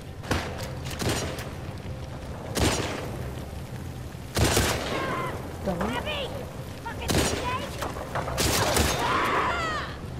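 Gunfire in The Last of Us Part II, several sharp shots spaced a couple of seconds apart, loud and close, with game ambience and brief voice sounds between them.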